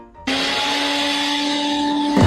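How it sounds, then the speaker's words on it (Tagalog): A blender motor kicks on abruptly and runs at a loud, steady whirring pitch, then shifts briefly at the very end. "Sige nga, paandarin mo nga ulit ang blender."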